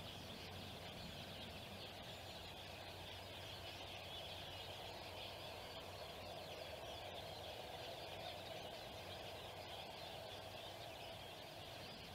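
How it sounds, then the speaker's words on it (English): A mixed flock of finches calling in farmland, with constant road noise beneath: faint chirps scattered through a steady traffic hum, distant and continuous. "So apart from the road noise in the background, that's a mixed flock of finches."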